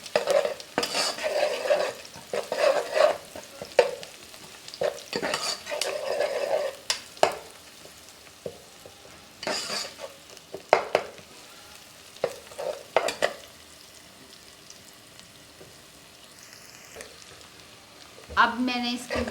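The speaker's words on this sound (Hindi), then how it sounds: "अब मैं इसके अंदर ये लहसुन अदरक का पेस्ट है ये डालूँगी।" Garlic ginger paste stirred and fried in a pan for chicken trotters, with steady sizzling and repeated scraping stirs of a spoon against the pan, close and fairly loud, with brief clinks of utensils and no talk.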